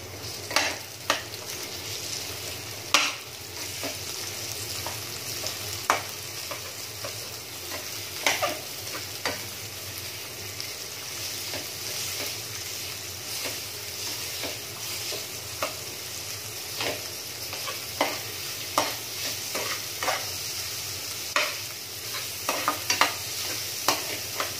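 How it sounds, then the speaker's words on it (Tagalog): Onion sautés in a pan for a Filipino upo stir-fry, a steady close sizzle broken by regular scrapes and taps of a spatula, with no voices. "Ilagay na po natin ang sibuyas."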